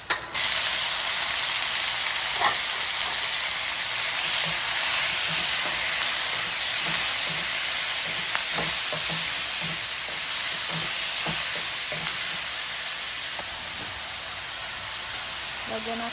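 Pancit noodles being stirred and mixed in a frying pan, a steady sizzling hiss with soft scraping and clinking of the utensil throughout, fairly close and continuous.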